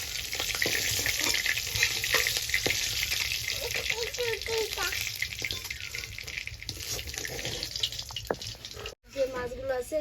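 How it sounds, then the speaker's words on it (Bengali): Fish frying in hot oil in a home kitchen, where a fish curry with cauliflower is being made; a steady, loud crackling sizzle runs nearly throughout, with brief speech and a short break near the end. "তাহলে আমি এই মাছগুলো এইভাবেই ভেজে নেব"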